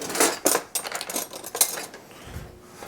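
Metal whisk clattering against a bowl as buttermilk and spices are whisked together for fried chicken batter, a quick run of bright scraping clinks that comes in uneven bursts, close and fairly loud.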